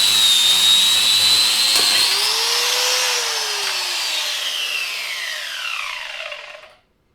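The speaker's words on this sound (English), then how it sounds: "I'm literally going to have to cut this bolt off with a Dremel" A Dremel rotary tool on a 4L60E transmission from a 5.7 Small Block Chevy cuts a bell housing bolt, its high whine holding steady, then drifting in pitch under load before spinning down and stopping.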